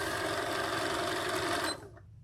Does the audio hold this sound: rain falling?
no